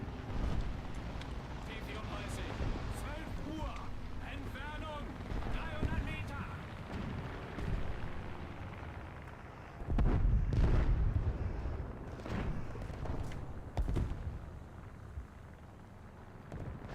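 A tank shell explosion in War Thunder sounds as a loud, deep boom partway through, set among rumbling engine noise and other battle blasts, with someone talking over much of it.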